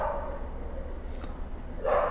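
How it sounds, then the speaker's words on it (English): A neighbor's dog barks a couple of times in the distance, faint yips rising briefly over a steady background hum. "My neighbor's dog."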